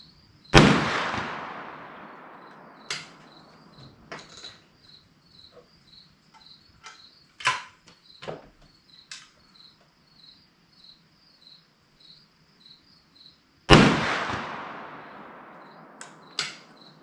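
Two loud, close shots from a New England Firearms SB1 .410 shotgun with full choke, firing Winchester Super X 2.5-inch slugs, each followed by a long echoing decay, crickets chirping throughout and a few small knocks between.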